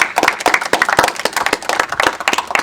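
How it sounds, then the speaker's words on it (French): Audience clapping at the close of a duel on a survival game show, a steady patter of many hands, moderately close and continuous without voices. "on peut tous les applaudir"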